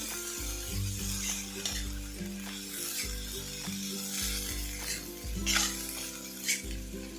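Capsicum sautéing in oil for a children's tiffin dish, a steady sizzle broken by repeated scraping stirs of a spoon against the pan, close and fairly loud, with no voices.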